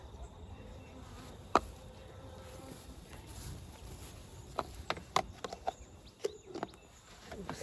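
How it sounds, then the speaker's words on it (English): Honey bees (Apis mellifera) shaken out of a hive during an autumn varroa check give a faint, steady buzz, with scattered sharp knocks and clicks from hive parts handled nearby. "I'll just empty these bees out"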